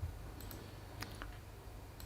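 A few faint, sharp computer mouse clicks spaced irregularly while stepping through a software installer, isolated ticks over quiet room hiss.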